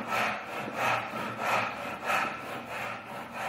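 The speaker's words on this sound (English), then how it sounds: "Now let us start cutting the joint with the tenon saw." A tenon saw cuts a wooden joint by hand, making rhythmic rasping strokes, about five back-and-forth passes in quick, even succession, close and clear with no talking.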